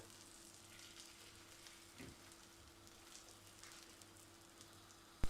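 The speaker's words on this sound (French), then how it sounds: "Et elle va nous cuire le msemen qu'elle vient d'aplatir." Msemen flatbread frying in a pan with a mix of butter and oil, a faint steady sizzle and crackle with a low hum underneath and a brief knock near the end.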